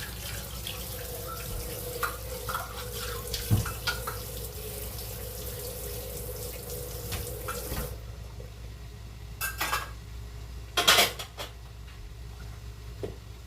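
Tap water runs steadily into a kitchen sink as dishes are washed during rice cake preparation for a certification exam, with a continuous rush for several seconds, then a few louder splashes and clatters, and no talking.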